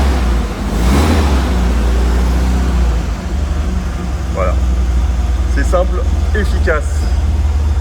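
Porsche 356 replica engine running at idle, a steady low rumble close by that holds an even tick-over, with a person speaking over it and a few brief higher chirps toward the end.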